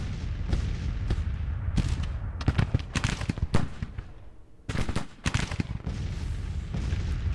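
A battery of Napoleon cannons fires in a Civil War strategy battle from Grand Tactician, a rapid series of booming artillery shots in irregular clusters with brief quieter gaps between volleys.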